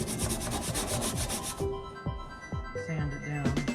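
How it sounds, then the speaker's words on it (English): Sandpaper rubbed over rusty, bubbled, half-peeled painted metal, a steady close rasping scrub that breaks into scattered scrapes and knocks, with people talking around it. "I might have to take some sandpaper."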